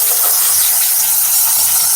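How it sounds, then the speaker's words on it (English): Fabric steamer hissing steadily and loudly as it steams car interior upholstery, a continuous close-up jet of steam with no talk. "While I'm back here, I'm steaming all this here really quickly."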